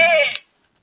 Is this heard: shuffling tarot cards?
no